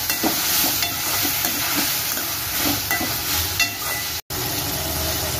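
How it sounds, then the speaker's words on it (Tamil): Onions and tomatoes sauté in a pan for mutton curry, giving a steady, close sizzle with stirring scrapes throughout and one brief cutout near the end. "வெங்காயம் தக்காளியை நல்லா வதக்கிக்கலாம்."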